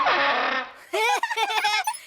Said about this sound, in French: Et voici le papillon à turbine.